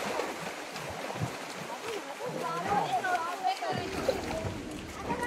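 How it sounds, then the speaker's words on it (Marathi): Water splashes onto people outdoors in irregular bursts, with lively talking and voices throughout. "सगळ्यांचा आम्ही इकडे येऊन असा सत्कार करतोय पाणी उडवून."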